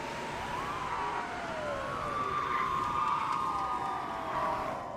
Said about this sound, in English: This is the sound of the police.